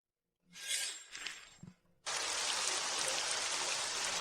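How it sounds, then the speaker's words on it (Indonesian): Heavy rain begins in a sudden burst, a loud, dense, steady hiss of pouring water that follows a short stretch of softer rustling sounds and continues without a break. "Hujan deras begini."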